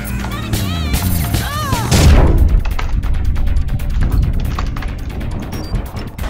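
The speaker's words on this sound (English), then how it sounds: "Now he's shooting me." Gunfire in the online game APB Reloaded, a loud burst of heavy shots and booms crowding together over game sounds, with someone speaking over part of it.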